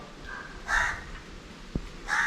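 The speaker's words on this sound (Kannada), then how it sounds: "ಮೀನನ್ನು ನೋಡಿ ಕಾಗೆ ಕೂಡ ಕೂಗ್ತಾ ಇದೆ," Two short crow caws ring out outdoors near a kitchen where fish is being prepared, each a bright harsh call with a quiet pause between and a small knock in the gap.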